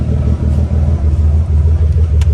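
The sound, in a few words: car engine idling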